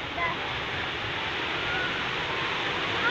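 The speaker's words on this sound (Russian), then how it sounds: "сегодня такая волна классная" Sea waves at a rocky shore, a steady broad wash of surf with continuous roar and little variation, close and fairly loud throughout.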